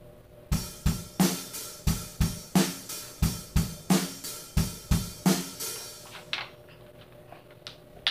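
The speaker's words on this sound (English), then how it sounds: "we play the same thing with sloshier hi-hats" Rock drum kit plays a groove with loose, sloshy half-open hi-hats. About fifteen hard, evenly spaced hits ring out alone and close, each with a washy cymbal tail, then fade out.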